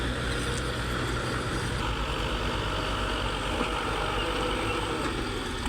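A steady, rumbling old tractor engine runs continuously at close range, a rough low drone with no pauses or voices.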